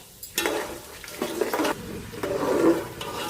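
Mustard seeds, cumin, peanuts and dried chillies fry in hot oil for tamarind pulihora, giving a close sizzle with crackling bursts and stirring scrapes.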